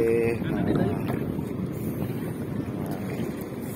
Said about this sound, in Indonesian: Ombaknya kencang dan anginnya segar.